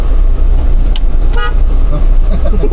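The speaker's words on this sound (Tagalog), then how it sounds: "Tunog yung busina na yan." Horn of a latest-model Mitsubishi L300 van, said to sound like a motorcycle horn, gives two short high toots over a steady engine and road rumble from inside the moving vehicle.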